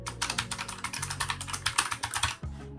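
Fast, continuous typing on a loud mechanical keyboard, a dense run of sharp clacky keystrokes close up, pausing briefly near the end, with no talk.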